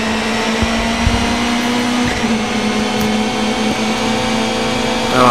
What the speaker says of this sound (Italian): Se si sente la turbina.